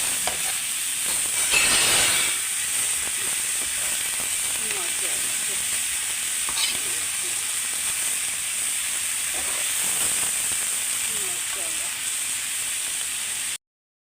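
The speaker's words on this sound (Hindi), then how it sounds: "इसको हम अच्छी तरह करेंगे फ्राई।" Minced meat keema frying in a pan gives off a soft continuous sizzle and hiss, with a brief louder burst of stirring early on and faint scrapes afterward, fairly quiet overall.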